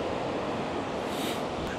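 Strong wind roars steadily into the microphone at a sunrise photography spot in Korea, a dense, rushing buffeting with a faint surf-like wash underneath and no voices.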